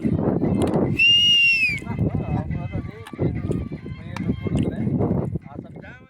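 A sharp, loud two-toned whistle lasts under a second from a man holding a glass, cheering on a drunk man dancing to a police song in the Guntur area, over a dense, noisy outdoor crowd din.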